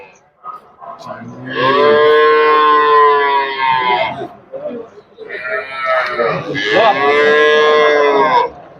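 Two long, loud moos from small buffalo calves at a livestock market in Chattiparamba, each lasting a couple of seconds, close by and separated by a short pause with faint background noise.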